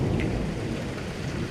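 Heavy rain pours down steadily with a low rumble of thunder beneath it, a dense, constant wash of sound close and loud throughout, with no voices.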